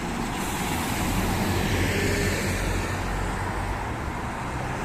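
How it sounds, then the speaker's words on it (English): Steady traffic noise rumbles throughout, a low continuous wash of passing vehicles at a moderate distance at night, with no one speaking. "What you're hearing is actually traffic noise."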